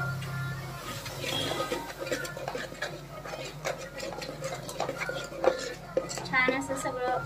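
A spoon stirs a masala of spices, oil, triphal and salt in a metal pot for a prawn curry, with repeated close scrapes and light clinks against the pot's sides.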